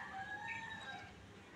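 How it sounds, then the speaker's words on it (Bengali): A rooster crows from a neighbouring house, a drawn-out call heard at moderate distance over faint background noise, with no talking. "কি সুন্দর করে মোরগটা ডাকে"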